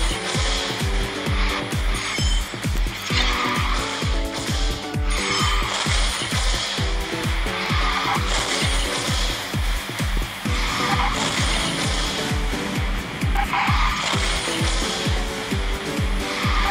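The Bionic Dark Sea Shark car drifts in the Garena Speed Drifters racing game, with a continuous engine and skid noise under a dense, rhythmic, pulsing game soundtrack at a steady loud level throughout.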